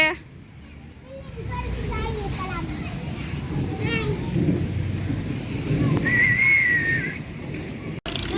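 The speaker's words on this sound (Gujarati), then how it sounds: "અને બહુ જ વીજળી કડાકા થાય છે" Thunder rolls through a monsoon storm as low rumbling with rain, steady and fairly loud across the whole stretch, while children's voices and a brief whistle-like tone sound over it.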